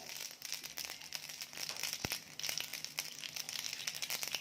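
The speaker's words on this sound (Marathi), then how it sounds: "मोहरी थोडी तडतडायला देऊया" Mustard seeds spluttering in hot oil in a pan while cooking cabbage sabzi, a fairly quiet stream of rapid crackles and tiny pops with one sharper snap, no talking.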